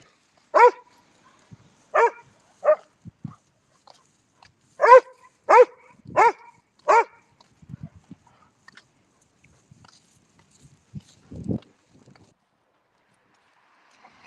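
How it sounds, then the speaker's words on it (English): A dog barks nearby in quick bursts, a cluster of three barks followed by a tighter run of four, then a few softer, scattered sounds, with near silence between them. "Yes, the dog."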